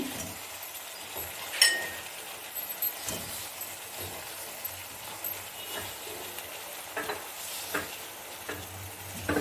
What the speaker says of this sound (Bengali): কষতে লাগলাম এবারে লঙ্কার কুচি টমেটো কুচি